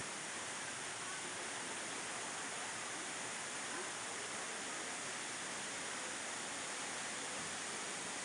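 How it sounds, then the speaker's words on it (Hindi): Water fountains run steadily at the Mahabharat Anubhav Kendra museum in Kurukshetra, a constant even rushing splash that stays close and unchanging throughout with no other sounds. "ये जो पानी के फाउंटेन चल रहे हैं"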